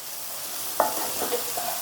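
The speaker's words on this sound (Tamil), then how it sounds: "தேங்காய் திரி வச்சுருக்கிறத போட்டு நல்லா வதக்கங்க" Onion and grated coconut sautéing in a pan for an egg and dried fish stir-fry, giving a steady soft sizzle with a few brief spatula scrapes and clinks, close and moderately quiet, with no talking.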